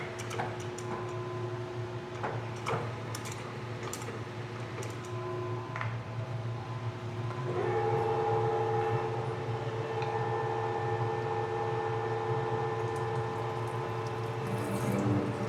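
A machine bores a large steel sprocket with coolant flowing, giving a steady mechanical hum with tonal whine and a wet wash that grows fuller and louder partway through, running continuously without speech.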